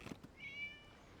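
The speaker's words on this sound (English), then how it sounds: "It was just a cat" A single short, clear cat meow in the video game Genshin Impact, brief and fairly soft, with no voices over it.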